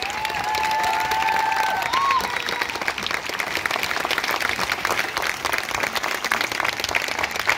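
Steady, sustained applause from a crowd at a Hindi motivational seminar, a continuous wash of many hands clapping with a voice briefly audible near the beginning.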